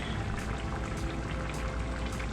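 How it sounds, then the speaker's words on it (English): Chicken pieces simmer in a pot, the liquid bubbling and popping in a steady, close, moderately loud burble with a few louder splashy bursts and no voices. "Our chicken has been bubbling away here."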